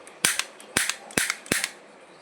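A toy cap gun fires four sharp, snappy cracks at close range, each followed by a brief rattle, spaced roughly half a second apart.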